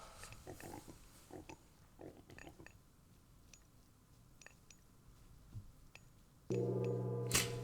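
Pigs in the video game Age of Mythology give a series of small, scattered oinks and clicks among other soft game sounds, followed near the end by a sustained brighter tonal game effect.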